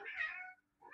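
A house cat gives one clear, drawn-out meow, close and alone, and a second meow begins just as the sound ends.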